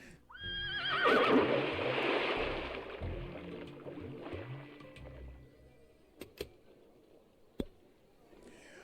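A horse in the video game Lil Guardsman gives a loud whinny near the start, then quieter shuffling and scattered sharp clicks follow against a faint background.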